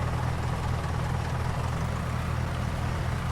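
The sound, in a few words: new tractor engine idling, Farming Simulator 19 video game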